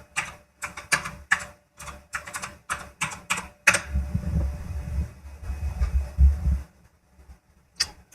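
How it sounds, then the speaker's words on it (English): Bursts of clacky mechanical keyboard typing in quick clusters, then a stretch of low rumbling thumps and a few final keystrokes, close up. "Enjoy the sounds of my mechanical keyboard."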